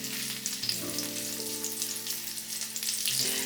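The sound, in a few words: chorizo frying in oil in a pan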